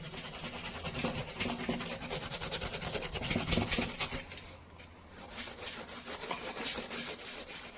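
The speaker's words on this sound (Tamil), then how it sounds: "டீப்பா மேலே ஒரு கவர் போட்டு இதுமாதிரி வச்சு தேய்ச்சி எடுத்துக்க வேண்டியதான்" Sembadaka fish pressed onto a plastic cover laid over a low table and rubbed back and forth to strip off its slime, a steady close scraping and rubbing that runs for about four seconds, then eases to quieter handling.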